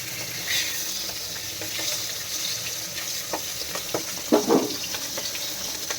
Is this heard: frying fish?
yes